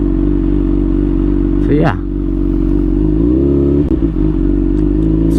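A Honda CBR600RR with a quick shifter and a flashed ECU drones loudly and steadily while riding, with a brief pitch sweep as it shifts; someone talks briefly over the engine.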